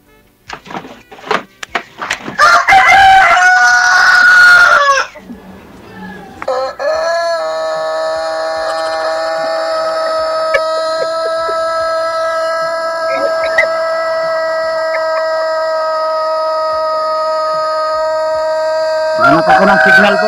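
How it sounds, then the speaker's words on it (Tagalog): A rooster crows loudly and at length, followed by clucking, near the microphone. People talk before and after it. "Ang ingay-ingay talaga sa manok mo."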